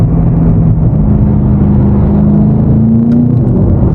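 BMW F90 M5 Competition accelerating in city traffic: a steady, loud engine drone with a harmonic tone that rises gradually in pitch under light throttle, continuous throughout with no talk.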